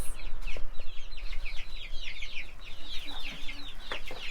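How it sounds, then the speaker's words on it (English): Black Silkie chickens cluck and murmur in a coop with chicks, a steady overlapping chatter of soft calls close by with no talking. "We've got black Silkies in here"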